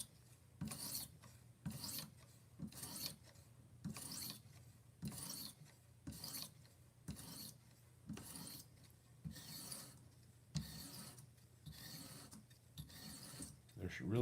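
A kitchen knife drawn across a medium coarse whetstone, about 50 to 40 microns, in rhythmic gritty rasping strokes, roughly one every second, close and steady; a voice speaks faintly between strokes.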